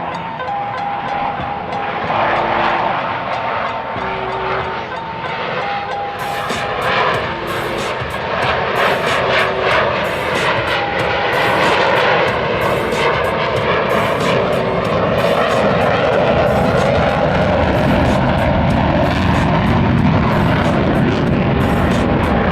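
Blue Angels F/A-18 Super Hornets fly a slow, nose-high High Alpha Pass at an airshow in Brunswick, Maine, a loud, sustained jet roar that swells and grows harsher as the formation passes close by.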